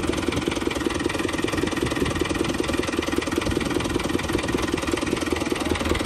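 A New Holland tractor engine runs at a steady idle while powering a 14-inch tubewell delivery, an even, rapid, pulsing chug close by with no talk.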